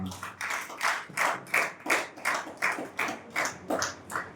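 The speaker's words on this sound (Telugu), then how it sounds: "ఒక్కసారి గట్టిగా చప్పట్లు కొట్టాలా?" A church congregation claps together in a steady unison rhythm, about a dozen crisp, evenly spaced claps that stay fairly close and clear.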